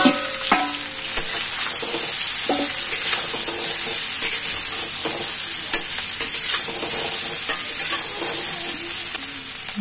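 Mixed vegetables with spices, for a dry cauliflower sabzi, sizzle loudly in a hot pan, with repeated scraping and clanking as a spoon stirs them throughout.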